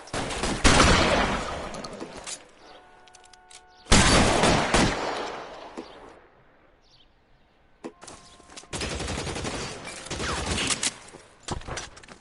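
Pistol and other gunfire in the video game L.A. Noire, coming in loud clustered volleys separated by quieter gaps with faint ambient tones, a few isolated shots in between.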